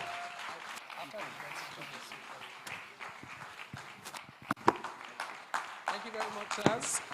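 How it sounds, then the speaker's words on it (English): Audience applause at a fintech challenge semi-final event, steady clapping from a crowd that swells and becomes more scattered toward the end, with some noise and voices mixed in. "Please, a round of applause once again."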